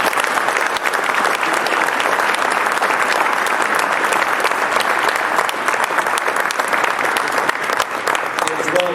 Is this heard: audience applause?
yes